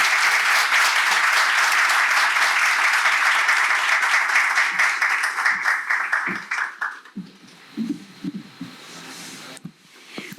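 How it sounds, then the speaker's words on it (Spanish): An audience at a Spanish-language ceremony launching a constitutional justice chair applauds loudly and steadily for about seven seconds, then the clapping thins and fades into scattered claps and faint murmurs. "Con ese aplauso agradecemos"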